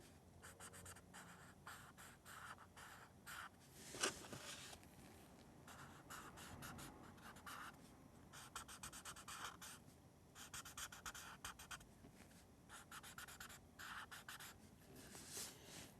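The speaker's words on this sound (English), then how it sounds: "You can feel it when it's damp because the paper stump feels like it's sticking." A paper stump blends damp ink on paper while drawing triangular Zentangle fragments, making soft, close scratchy rubbing strokes in steady back-and-forth bursts with brief pauses.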